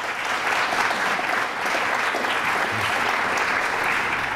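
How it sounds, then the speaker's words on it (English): An audience at a governor's press event for a nail salon consumer awareness campaign claps steadily for several seconds, an even, sustained round of applause from a sizable room with no voices over it. "let's give them a round of applause"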